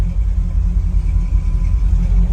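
A deep, steady 1969 Chevrolet Camaro engine rumble idling close by, loud and low with a constant throaty drone and no voices.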